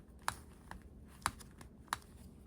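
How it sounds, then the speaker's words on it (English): The ratcheted joint of a Hellboy action figure clicks faintly as the limb is moved, in three or four sharp separate clicks spaced about a second apart, with no other sound. "if you can hear that clicking noise, it's kind of like a ratcheted joint on the inside"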